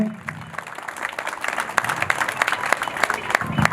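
An audience at a temple fundraising event applauding a donor, scattered claps building into denser clapping, with a voice on a microphone at the start and end.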